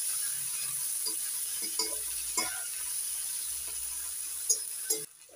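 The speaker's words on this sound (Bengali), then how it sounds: "পেঁয়াজ রসুন ভেজে নিয়ে এবার দিয়ে দিচ্ছি টমেটো কুচি। একটু নাড়াচাড়া করে নেব।" Chopped tomato goes into onion and garlic frying in a pan for a betoshak egg curry, giving a steady close sizzle broken by scattered scraping stirs, with no talking.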